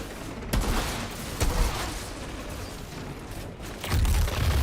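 Gunfire from hip-fired shots in the video game Outriders, a few loud, sharp bursts spaced out over a steady rumble of in-game noise.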